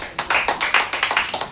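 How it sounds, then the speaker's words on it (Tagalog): Church congregation at a charismatic prayer gathering claps loudly in a quick, fairly regular rhythm, close and prominent, sharp repeated hand claps with no talk. "Malakas na palakpak."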